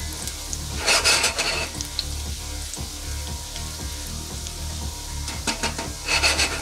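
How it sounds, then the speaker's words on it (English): Garlic sizzles in bacon fat in a pan, making a steady frying hiss with regular scraping stir strokes and a couple of louder bursts of crackle near the start and end. "Get that garlic to release some of that flavor into that bacon fat."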